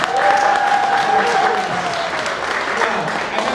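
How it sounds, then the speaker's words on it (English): Audience applause at a Halloween Haunt media night at California's Great America, loud and sustained broadband clapping from a crowd filling the whole stretch, with a sustained tone and voice-like sounds mixed in. "This is the applause cue."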